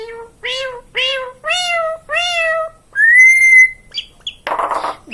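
A cat meows close and loud in a series of about five rising, tonal calls, followed by a long higher drawn-out cry and a short hissy burst at the end.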